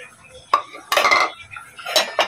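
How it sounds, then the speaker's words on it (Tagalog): A pot of mung bean stew with moringa leaves being stirred: close metallic clinks and scraping bursts of a spoon against the pot come in four or five irregular clusters with quiet gaps between. "Medyo halo-haloin natin."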